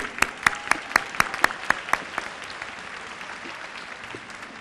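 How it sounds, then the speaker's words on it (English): A few individual claps ring out in a steady rhythm at a city service awards ceremony, sharp and distinct over low crowd ambience, then fading into room noise. "Let's give another round of applause for those individuals tonight."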